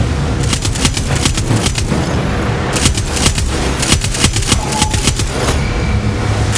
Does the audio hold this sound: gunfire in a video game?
yes